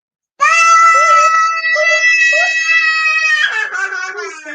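A child's high, sustained screaming wail fills a room, loud and continuous for several seconds with shifting pitch, breaking into ragged crying near the end.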